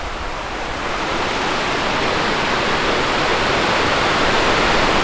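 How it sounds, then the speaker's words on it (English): A large waterfall roars in a dense, unbroken broadband rush, loud and close, steady throughout and slowly building in intensity, with no voices or other sounds over it. "Love this waterfall."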